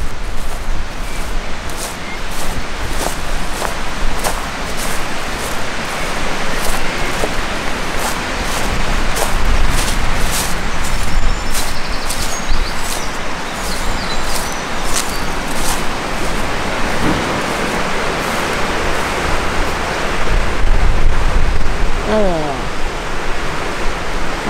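A waterfall beside a pebble beach gives a steady, close, full rushing roar that never lets up, with faint voices now and then beneath it.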